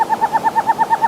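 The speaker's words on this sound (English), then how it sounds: "did you know that owls make many other noises" An owl calls in a rapid, evenly spaced run of about ten short, mellow hoots, loud and close, with no talking.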